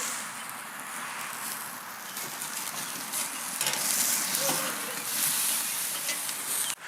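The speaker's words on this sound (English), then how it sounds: "Check out the color on that steak searing away." A thick bone-in prime rib steak searing on a cooker gives a steady, soft sizzling hiss that swells slightly midway and continues without pause.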